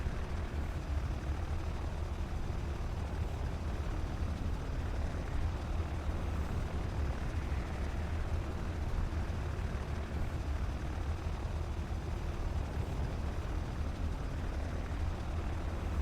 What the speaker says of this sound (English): Remote control aircraft